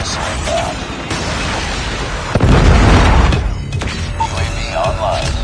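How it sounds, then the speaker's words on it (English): A Predator missile strikes in a shooter video game, a single heavy, rumbling boom in the middle that swells and fades over about a second, set against game noise and a recorded announcer voice. "Friendly Predator missile inbound"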